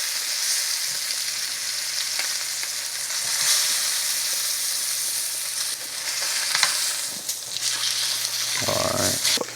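A steak sizzles and fries steadily in a pan while being basted with butter, a dense continuous hiss with faint stirring and scraping, ending in a louder burst of spattering near the close.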